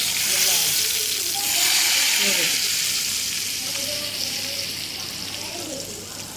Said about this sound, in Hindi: और तड़का लगा रहे हैं हम, देखें बड़ा अच्छा तड़का इसका